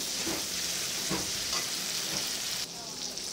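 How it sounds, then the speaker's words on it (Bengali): Ground cumin, chilli powder, salt, turmeric and ginger paste frying in a pan for a paneer and vegetable curry, a steady close sizzle with a few stirring scrapes throughout. "আমি এর মধ্যে জিরে গুঁড়ো দেবো, লঙ্কা গুঁড়ো দেবো, লবণ দেবো, হলুদ দেবো, আদা বাটা দেবো।"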